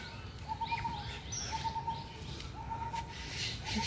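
Birds call repeatedly over a steady background, a short tonal phrase returning about once a second with faint chirps above, no talking.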